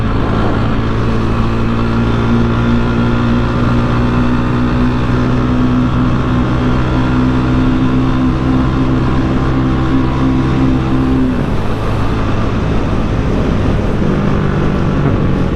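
A Rusi Classic 250 motorcycle engine idles steadily and close by, a loud constant rumbling drone that shifts pitch slightly near the end, with no talking.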